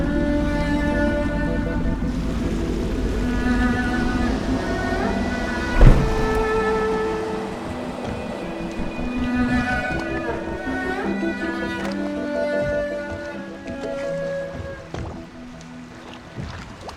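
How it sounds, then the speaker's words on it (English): A boat piloted across water in the Dishonored video game, its low engine hum and lapping water running continuously under layered musical tones, with one brief knock partway through. "Oh, I should concentrate on piloting this boat."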